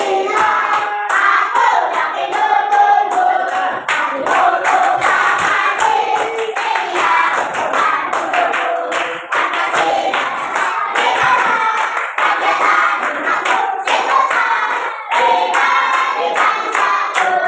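A classroom of pupils claps in rhythm while singing Garuda Pancasila together, producing loud, close, regular hand claps under continuous group singing.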